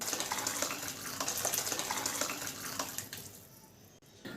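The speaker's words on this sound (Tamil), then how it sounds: "இப்போ இதை ஒரு பாத்திரத்தில் ஊற்றிக்கலாம்." Tomato rasam poured from a pan into a vessel gives a steady liquid gush and splash that fades after about three seconds, with no talking.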